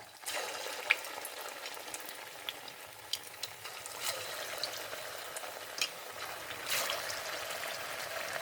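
Rice flour vada frying in hot oil, a steady bubbling sizzle with scattered pops and crackles, close and fairly quiet, with no talking.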